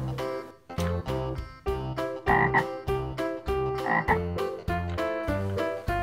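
A green frog croaks in a fast, regular series of loud, close calls, each one a rough, rattling pulse, with no voices over it.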